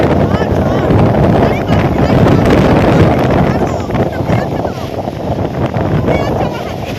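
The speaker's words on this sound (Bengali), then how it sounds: "এত পরিমাণে বৃষ্টি না, এত পরিমাণে ঝড়।" Strong storm wind and rain roar as a loud, continuous, buffeting rush that swells and eases slightly throughout, with no pauses.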